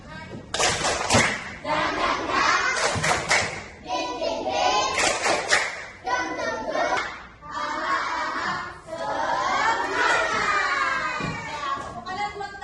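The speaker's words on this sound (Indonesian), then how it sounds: "Guru akan mengajak kalian untuk melaksanakan tepuk semangat." Primary school class performing tepuk semangat, a rhythmic patterned clapping routine, heard as bursts of claps mixed with children's chanting voices and thumps, close and loud across the whole stretch.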